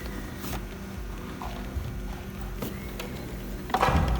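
A sewing machine stitching a seam down a fabric face mask, a steady close mechanical whir with a faint rhythmic ticking throughout, and a louder clatter right at the end.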